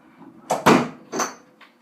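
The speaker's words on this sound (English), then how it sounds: "Go close my door, please." A door is pushed shut indoors: a few sharp knocks and a latch clack, followed by a lighter rattle, close and loud with no talking.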